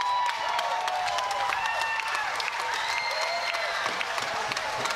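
A stadium crowd at the 2019 Pacific Games athletics applauds and cheers a new long jump champion, with dense, sustained clapping, scattered whistles and shouts spread evenly throughout.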